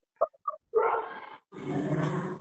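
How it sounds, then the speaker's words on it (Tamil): A dog gives a couple of short sharp barks, then a sustained rough growl, a brief pause and a longer rumbling growl-bark, close and clear against a quiet background. "நாய் சத்தம், பேய் சத்தம் வருது."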